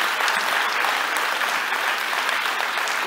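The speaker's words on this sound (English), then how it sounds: "there's a good round of applause for you" A good round of audience applause, dense and steady clapping from a large crowd at an even loudness throughout, with no voices over it.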